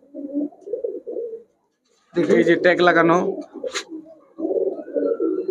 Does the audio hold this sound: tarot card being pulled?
no